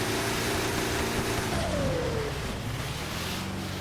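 A Volkswagen Polo engine in GTA 5 hums and revs, a steady mid-pitched drone with a brief rising rev partway through, fairly close and with no talk over it.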